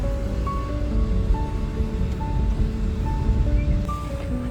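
Flood water rushes fast across a road in Punjab, a loud, steady, broad roar of churning water heard outdoors and up close.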